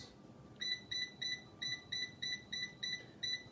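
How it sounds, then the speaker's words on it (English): An air fryer's touch control panel beeps about ten times in a quick, evenly spaced series of high, thin electronic tones, faint and close in a quiet kitchen. "Beep, beep, beep, beep, beep."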